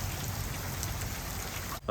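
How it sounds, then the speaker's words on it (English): Light rain falling outdoors at a campsite during a walk across America, a steady soft patter on surfaces filling the background before a brief break at the end. "the rain had eased off a lot, like significantly slowed up"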